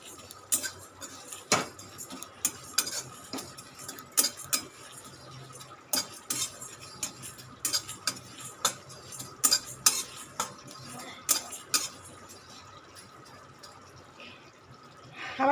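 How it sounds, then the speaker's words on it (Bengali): Dried red chillies, cumin, coriander and fennel seeds dry-roasted in a pan with no oil, stirred with a metal spoon: repeated sharp scraping clinks in an uneven rhythm over a faint dry rustle, close by. "দেখো অল্প একটু জিরে, একটু ধনে, একটু মৌরি একসাথে আমি শুকনো খোলায় একটু নেড়ে নেব।"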